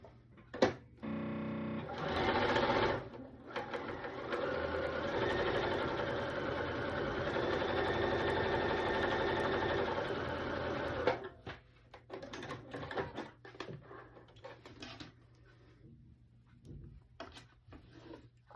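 Sewing machine running steadily for about eight seconds while stitching a quilt block with a quarter-inch seam foot, a loud continuous motor whir that stops abruptly, followed by quieter handling noises.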